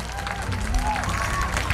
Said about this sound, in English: Let's give these ladies a big round of applause.